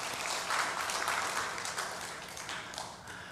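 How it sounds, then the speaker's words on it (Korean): Congregation applauding inside a church, continuous dense clapping that swells early and then eases slightly toward the end. "박수하겠습니다"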